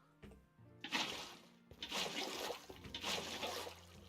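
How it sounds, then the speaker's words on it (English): Water placed in the Minecraft video game, three bursts of rushing, splashing water a second or so apart, moderately loud, with no voices. "so place all the water."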